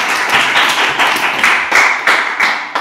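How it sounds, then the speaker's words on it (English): Children clap their hands in a classroom English lesson, a dense run of close, bright claps with a few louder accents, lasting a few seconds with no talking. "Great job. Clap for me."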